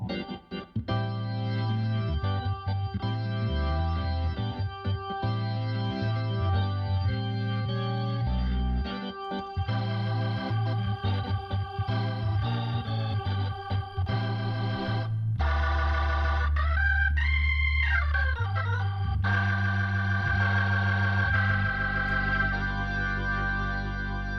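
An overdriven Hammond-style organ plays a long passage of chords and riffs, gritty and full, with a swooping glide midway; no voices.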